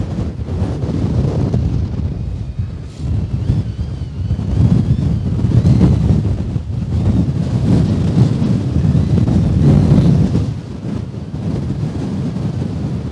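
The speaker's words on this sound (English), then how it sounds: "All right, now our wind's picking up." Strong, steady wind gusting across a microphone outdoors at a shooting range, a loud low roar that swells and eases with no other sounds and no talking.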